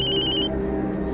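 An electronic phone ringtone trills loudly for about half a second and then stops, leaving a low background hum.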